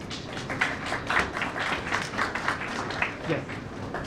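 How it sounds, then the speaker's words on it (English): Audience applause at an event honouring several invited doctors: dense, steady clapping across the whole stretch, with a few sharper claps and speech mixed faintly into the crowd noise. "The applause should not stop."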